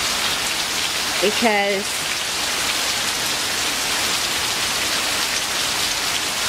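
Heavy rain pours steadily on a yard in Auburn, Georgia, flooding it and the runoff ditch, a loud, dense, even wash with a brief spoken word near the start.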